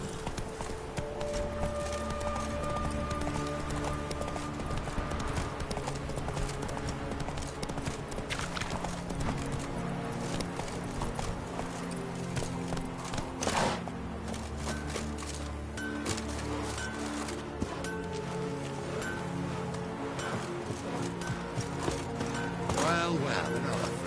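Horse hooves clip-clop steadily while riding in The Witcher 3, running the whole time beneath a dense layer of game music and ambience, with a voice speaking at points.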